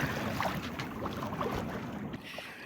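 A sailboat glides into a rocky, reef-lined anchorage, with a steady rush of wind and water washing past close by, fairly quiet and continuous, with no voices.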